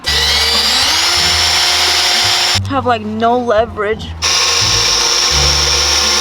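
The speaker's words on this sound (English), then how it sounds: "We're gonna drill a hole on the fender." A power drill whines loudly and steadily while drilling a hole in a car bumper, stopping briefly while someone speaks, then resuming at full volume.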